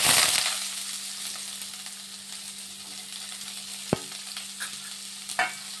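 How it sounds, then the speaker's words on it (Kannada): Onions, green chilies and curry leaves fry in a pan for a potato and cauliflower palya, a steady low sizzle with a few sharp spoon clinks and scrapes, no voices. "ಇದನ್ನು ಸ್ವಲ್ಪ ಚೆನ್ನಾಗಿ ಫ್ರೈ ಮಾಡ್ಕೊಂಬಿಡೋಣ ಇದನ್ನು"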